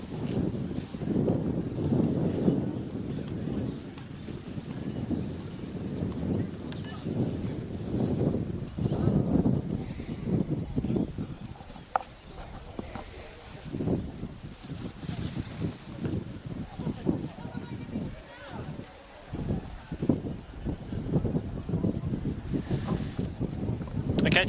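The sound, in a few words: strong wind on an effects microphone at a football match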